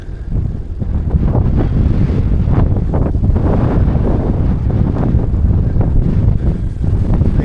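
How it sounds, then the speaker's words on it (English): Headwind buffets the microphone on a bike ride toward a cemetery near Richebourg, a loud, continuous low rumble with gusty surges that lasts the whole stretch and has no voices over it. "Headwind."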